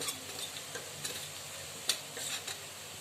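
Onion and spice masala being stirred and fried in a pan, with coriander powder added: a quiet continuous sizzle broken by occasional light scrapes and clinks of the spoon against the pan.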